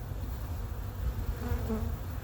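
A steady, close drone of many honey bees buzzing together in a hive in January, continuous with a faint rising hum; no voices.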